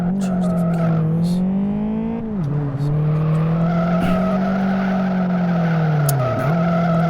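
A video game car does donuts, its tires squealing in a loud sustained wail that dips and rises in pitch with each turn, over a steady engine drone.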